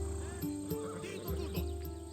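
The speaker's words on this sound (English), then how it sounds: "Ah, the Macedonian. These are bred for battle. A true warrior's horse." Macedonian war horse, a breed raised for battle, neighing in Assassin's Creed Odyssey: a short whinny with a few snorts and hoof sounds, close and clear over a low background hum.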